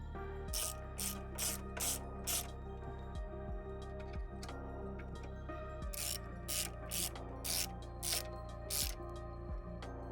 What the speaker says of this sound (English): Using a 10mm spanner or socket, tighten the bolt with a T30 torques.